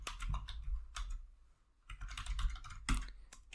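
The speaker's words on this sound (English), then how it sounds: "just type your network IP address" Computer keyboard keys clatter in two dense bursts of close, crisp taps separated by a brief pause while an IP address is entered, with no speech.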